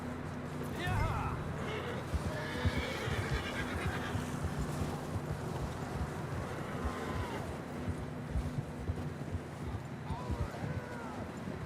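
In the Red Dead Redemption 2 video game, a horse whinnies and hooves clip-clop beneath steady wind, with someone talking over the outdoor scene.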